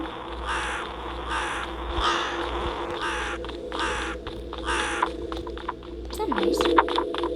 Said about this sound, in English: Did I just hear a crow?